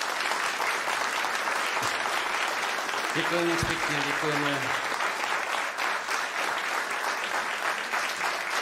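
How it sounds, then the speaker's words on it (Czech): Warm applause fills a hall at a concert, steady clapping from a sizeable audience that runs throughout while someone speaks over it. "Nádherný a vřelý úvodní potlesk"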